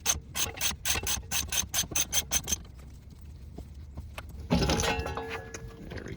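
Ratcheting 19 mm socket working lug nuts on a Chevy Cruze wheel hub, a fast run of sharp clicking bursts at close range, then a pause and a louder grinding, rasping spin near the end.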